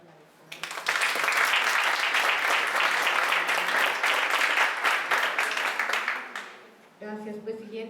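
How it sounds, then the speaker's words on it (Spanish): An academic panel audience applauds a female doctor: after a quiet start, dense clapping rises sharply and holds steady for several seconds, then fades, and a voice begins speaking near the end. "Un aplauso para la doctora."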